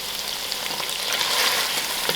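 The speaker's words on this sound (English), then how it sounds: "allow these spices to fry within the meat" Spices and lamb meat sizzle and fry in a pot for stew, giving a steady, loud, hissing crackle throughout with no voices.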